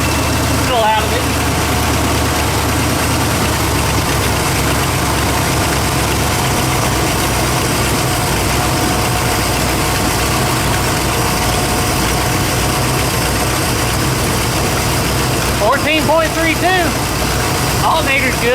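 An older Pontiac Bonneville engine idles steadily with a noticeable exhaust leak, a loud, continuous rumbling drone close by, while someone talks briefly over it near the start and again toward the end.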